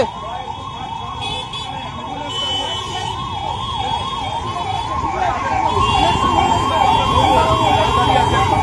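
An ambulance siren wails in steady up-and-down sweeps over a low traffic rumble in Kolkata, where traffic is held up, growing slightly louder toward the end.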